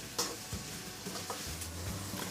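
Onions sautéing in a pan for a Koduva fish curry, giving a low steady sizzle with a few soft spoon scrapes and stirs spread across the short stretch.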